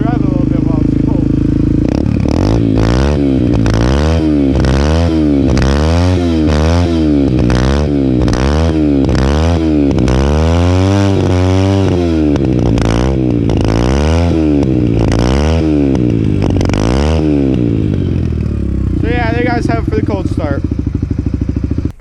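A cold Yamaha TTR 125 motorcycle engine runs while being ridden, close and loud, its revs rising and falling in repeated surges before settling toward an idle near the end, with a voice briefly heard.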